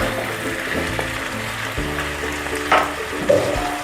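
Potato and pumpkin curry simmers over a low gas flame, a gentle bubbling sizzle close by with a low steady hum and a couple of brief clinks.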